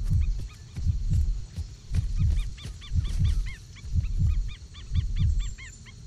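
A repeated low double-thump heartbeat pulses steadily in the video game Miasmata, loud and close, with faint warbling creature calls chirping above it in the background.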